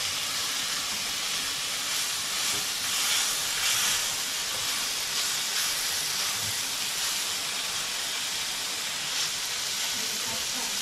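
Pieces of fish fry in hot oil for a fish curry, a steady broad sizzling hiss that holds at an even level throughout, with a voice faintly underneath.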